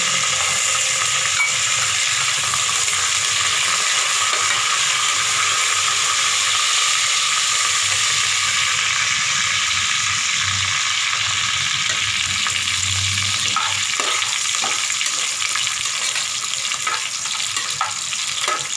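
Garlic and curry leaves fry in a pan for Kollu sadham, giving a loud, continuous close sizzle with occasional stirring scrapes and spoon clicks throughout.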